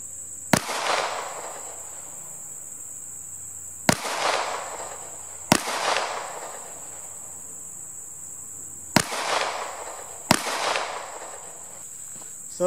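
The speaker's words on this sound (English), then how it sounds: "I'm going to go back and fire 5 more, so that'll be a total of 7 to the body." Five sharp pistol shots from a CZ P10C fired at 25 yards on an outdoor range, spaced a second or two apart with two close pairs, each a loud crack with a short ringing decay and a steady high insect-like hum behind.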